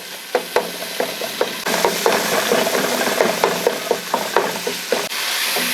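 Softened tomatoes and stock being mixed in a pot for beef pulao, with a quick run of clattering spoon scrapes and knocks against the metal over a low bubbling sizzle, fairly close.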